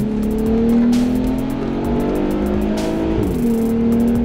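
A Volkswagen Passat CC R-Line 4Motion drives with a steady engine drone, then a manual downshift brings a sharp rise in revs, heard close and continuous with no talking.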